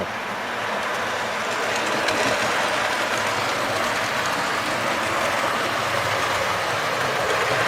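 A model railway train runs steadily through a loft layout, a soft continuous rumble and faint clatter of wheels on track, moderately close and without voices.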